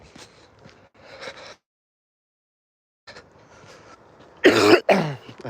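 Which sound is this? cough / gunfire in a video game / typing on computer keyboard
cough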